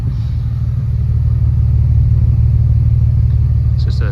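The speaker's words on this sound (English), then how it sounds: "you can hear the idle, it's not very loud" A BMW 328i with M3 headers, a full M3 exhaust with catalytic converters and a Scorpion back box idles steadily, giving a low, even, continuous rumble with no revving, heard alone at close range.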